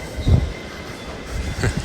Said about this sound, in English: So those trains I was talking about earlier, I think just drop you off down here.